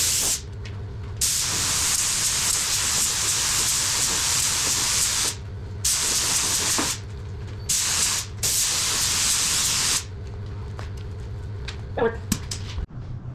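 Spray gun laying flat clear coat onto parts for a 1954 Chevy COE truck, a loud continuous hiss in long bursts broken by short pauses, close up, with a faint hint of a voice near the end.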